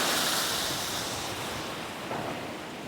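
Rushing river rapids at a whitewater outfitter give a steady, broad roar of flowing water, even and continuous throughout.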